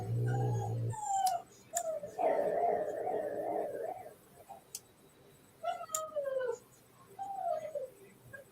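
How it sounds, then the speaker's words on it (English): A dog gives off-mic whimpers, yips and a few barks in a home during a livestream, rising and falling in short bursts at moderate distance, with a hum at the start. "Sounds like Devil Dog's starting to bark"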